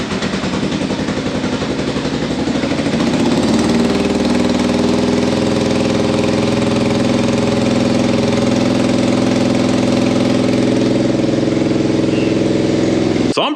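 A Kawasaki-engined go-kart runs with its choke on, a loud, steady mechanical drone that settles into a rough, even idle after a few seconds and continues without pause.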